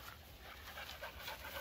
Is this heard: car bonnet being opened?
no